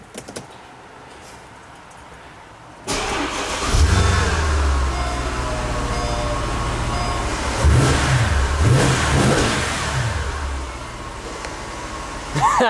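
Mercedes SL550 V8 engine idling then blipped, a sudden rise in engine rumble followed by several revving swells, heard nearby with people talking over it.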